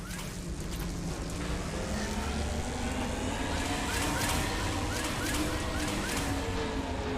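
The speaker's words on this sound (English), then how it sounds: "Navigating this storm is brutal." A violent storm in the Mass Effect 2 game: dense, steady roar of wind and churning water with a low engine rumble underneath, continuous and loud throughout with no talking.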